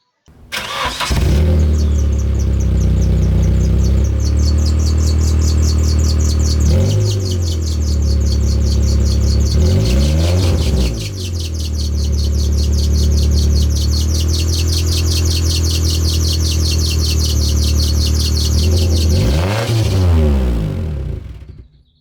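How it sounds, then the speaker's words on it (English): A car engine runs steadily and loudly up close, with several throttle blips rising and falling, and a bright high whine or chirp carries on over the rumble. "now I'm just going to leave you with the sound clip of the car"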